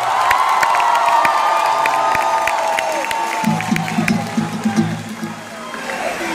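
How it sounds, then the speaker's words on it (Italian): A large crowd at a concert in Pescara cheers and claps loudly, with sustained roaring and whoops. Music from a band rises under it partway through. "Me lo fate sentire, un applauso per la mia band"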